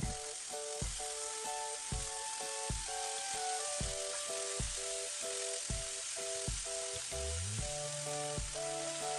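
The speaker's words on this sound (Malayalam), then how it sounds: "രണ്ട് സൈഡ് നമുക്ക് ഫ്രൈ ചെയ്തെടുക്കാം" Chicken pieces frying in a pan for restaurant-style butter chicken, a constant sizzle and crackle with a recurring series of tonal taps and clicks repeating about once a second throughout.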